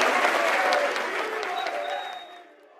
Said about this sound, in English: The crowd is loving it.